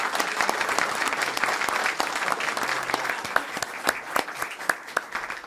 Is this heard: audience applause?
yes